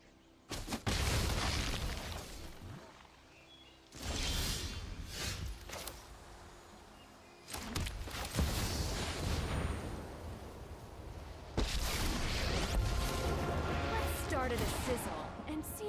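Several heavy booming video game explosions in separate bursts, each followed by a rumbling decay, loud and close with a quieter gap between them.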